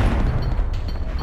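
A grenade explosion in Oddworld: Abe's Oddysee, a loud, short, low boom with heavy rumble right at hand.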